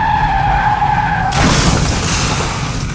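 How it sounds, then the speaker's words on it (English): A police car's tires screech as it spins out on a city street: a sustained, wavering squeal that breaks after about a second into a loud, rough burst of broadband noise. "the car was spinning, screeching, buildings and streetlights flashing by so fast that all she saw was a blur"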